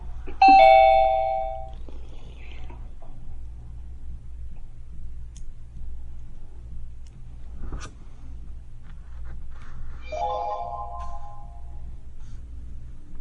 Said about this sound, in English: I like that now I can hear the doorbell, Jim.